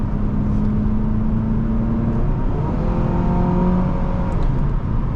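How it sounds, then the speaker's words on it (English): A 2002 Honda Accord SE engine pulls hard under acceleration, a close, continuous drone whose pitch rises steadily with engine speed, heard from inside the car without talk. "And I love this engine, just the sound of it, the feel."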